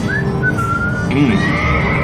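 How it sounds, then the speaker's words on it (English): Whistled melody plays on the K-Rose radio station in a driving video game, a clear drawn-out tune of sliding notes heard over a steady background hum. "Here's some tunes to whistle on a lonely night."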